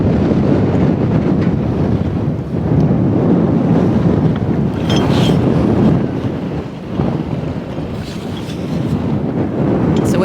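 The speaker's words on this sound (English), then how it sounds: "Blustery out here." Strong, blustery wind roars across the microphone aboard a sailboat at sea in the Sea of Cortez, loud and continuous, with surging gusts over a low rumble of water and rigging.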